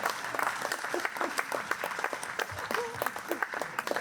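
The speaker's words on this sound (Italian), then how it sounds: "farei un grande applauso al valletto a Francesco" An outdoor festival audience at Sardigna Eras in Ploaghe applauds an assistant named Francesco, with dense, lively clapping carrying on for several seconds and a few voices calling out over it.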